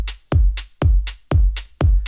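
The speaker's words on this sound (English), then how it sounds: "So here's the main hat. And this is going to go in between every kick." A main hi-hat in a drum pattern ticks crisply between heavy kick drums, four kick-and-hat pairs in a steady loop, loud and alone with no voices.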